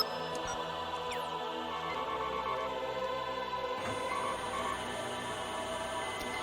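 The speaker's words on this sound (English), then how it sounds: "It's a Star Trek sound effect there." A Star Trek sound effect from a Squaresoft 1998 collector's CD: a steady, dense electronic hum layered with high sustained tones, shifting midway with a soft swell, heard alone without voices.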